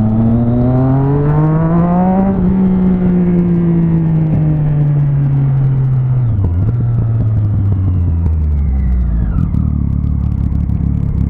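A Kawasaki Z1000 motorcycle revs hard and climbs in pitch, then its engine note drops and fades into a deep rumble as it goes past and away.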